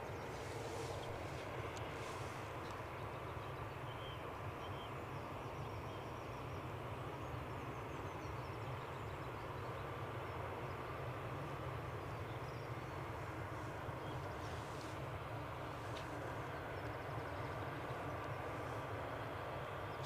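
An aircraft approaching Edinburgh Airport about six miles out, a faint, distant, steady engine rumble and hum holding evenly throughout with no talk.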